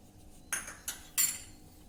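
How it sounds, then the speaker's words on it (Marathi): A spoon clinks against a bowl while jaggery is mixed with hot ghee, three short scraping taps in quick succession in a quiet kitchen. "आता आपल्याला हे व्यवस्थित मिक्स करून घ्यायचं आहे"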